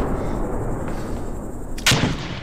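A mortar round landing in the video game ArmA 2, one sharp, heavy blast near the end over a rumbling, noisy background.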